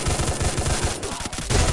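Rapid automatic gunfire in the battle-royale shooter game Free Fire, a dense, loud stream of shots running nearly throughout, with brief gaps before the firing resumes.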